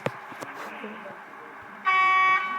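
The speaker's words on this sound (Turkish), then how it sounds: "Korna nereden basılıyor?" In a bus driving video game, after some brief clatter and a faint voice, a loud bus horn blares steadily for about half a second.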